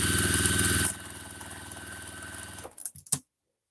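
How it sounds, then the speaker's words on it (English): Pieces of fabric are sewn together with a quarter-inch seam on a sewing machine, a continuous close motor whir that drops in level partway through, then stutters and stops. "I'm going to start sewing these together with a 1/4 inch seam."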